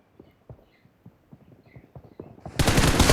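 Gunfire in the mobile battle-royale game PUBG Mobile, a run of sharp, evenly spaced shots that starts faint and builds to a loud, dense burst at the end.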